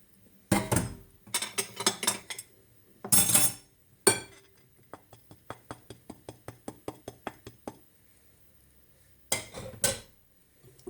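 Cheesecake batter with flour and starch being mixed in a bowl: bursts of scraping stir separated by a run of quick, rhythmic clinks and taps of utensil on the bowl, close and clear, no speech.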